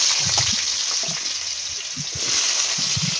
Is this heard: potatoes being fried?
yes